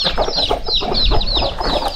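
A chicken clucks in rapid, close, loud bursts, with a steady stream of short calls and no talking.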